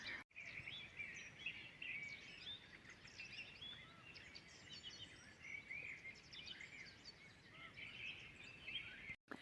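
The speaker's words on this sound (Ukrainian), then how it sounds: "Ви чуєте, як пташки співає." Birds chirp and sing steadily in a field outdoors, many overlapping calls carrying on continuously at a soft, distant level.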